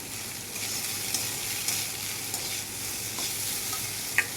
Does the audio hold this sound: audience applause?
no